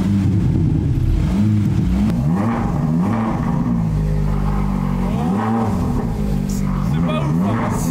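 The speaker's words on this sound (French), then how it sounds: "Là, j'ai mis le bruit Ferrari." An ordinary car fitted with a fake Ferrari engine-sound device revs in loud, rising and falling synthetic engine sweeps that repeat continuously, with a voice heard over the engine.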